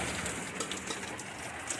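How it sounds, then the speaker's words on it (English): Rain falls steadily as a soft, even hiss of drops on surfaces, continuous and fairly quiet, with no voices. "Hey, it's finally raining again."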